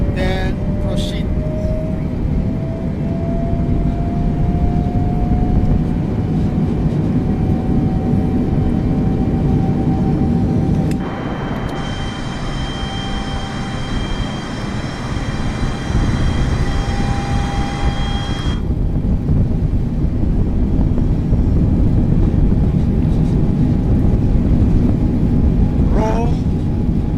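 Boeing 747-800 jet engines on a simulated Alitalia takeoff roll out of Rome: a loud continuous roar with a thin whine slowly climbing in pitch, a brief change in tone partway through, then the steady roar again.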